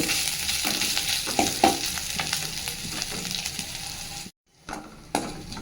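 Ingredients for biranji rice frying in hot ghee give a close, crackling sizzle with a few stirring scrapes, then a brief cut to silence before the sizzle returns.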